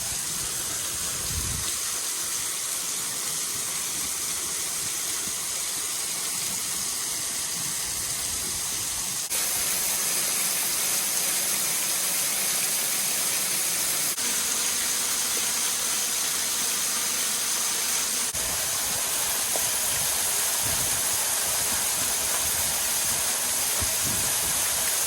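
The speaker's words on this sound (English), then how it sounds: "Behind the waterfall." A waterfall heard from behind its falling curtain gives a constant, dense rushing hiss that fills the whole stretch. It stays loud and close throughout, with faint low thumps and no speech.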